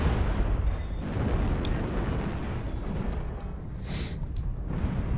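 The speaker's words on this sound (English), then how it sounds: "Warning, incoming missile." Dense, continuous rumbling blasts of incoming missiles exploding in the mech combat game Mechwarrior Online, loud and steady throughout with a few brief higher bursts and no talking.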